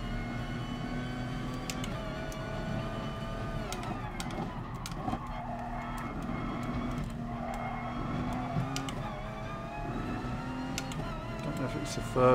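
A race car in Gran Turismo Sport whines through gear changes at an FIA Nations Cup event, engine pitch rising and falling steadily with faint tyre noise as someone talks throughout.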